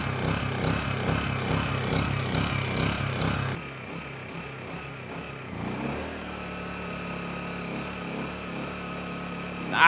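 Honda EU1000i portable generator running after a warm restart, a steady close engine drone that drops to a quieter, smoother hum partway through, with no talk.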